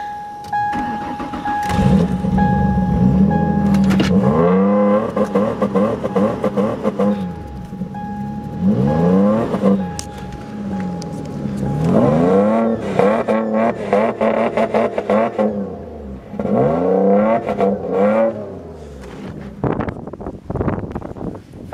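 A Mercury car's engine on a cold start: cranking, catching, then repeated revs rising and falling in several bursts, loud and close with wind noise, before settling toward idle.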